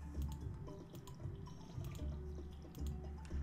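Crops being watered with a watering can in Stardew Valley, soft trickling and dripping water sounds repeating in short bursts over low game background noise, with no talking.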